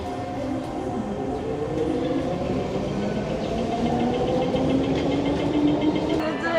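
A train rumbles steadily along the rails in Hong Kong from inside a carriage, with a continuous low roar and faint rhythmic clatter throughout.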